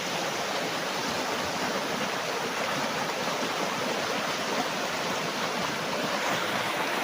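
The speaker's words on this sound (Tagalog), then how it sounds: "Malakas pa ang agos." A strong river current near a farm lot in Majayjay, Laguna rushes in a steady, dense wash of flowing water, loud and continuous throughout with no voices.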